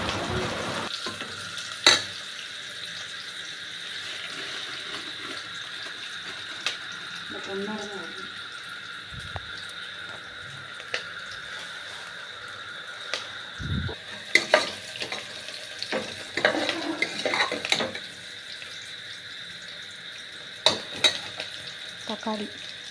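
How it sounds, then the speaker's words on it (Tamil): Onions and tomatoes are stirred and sautéed in a pan with a low, steady sizzle, punctuated by sporadic clinks and scrapes of a spoon that grow busier toward the end, with a voice talking over it. "இந்த காயெல்லாம் அழுகி போன காய் கொடுத்தாலும் நல்லா கிண்டி விட்டு வதக்குங்கள்"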